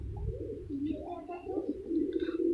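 Pigeons cooing beside their nest with eggs and a chick, a soft, low, warbling coo repeating steadily at close range across a couple of seconds, with faint chirps above.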